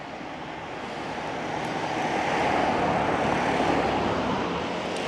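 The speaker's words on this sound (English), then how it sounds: "let's get the drone back up" A drone hovers and flies overhead outdoors, giving a steady whirring buzz that swells slightly in the middle and stays constant with no talk.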